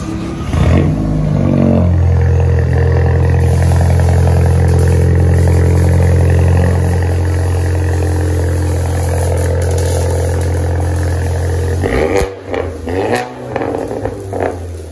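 A Volkswagen Jetta GLI 2.0 turbo with straight-piped exhaust fires up and holds a loud, steady drone, then revs sharply near the end in a few raspy bursts, close and alone.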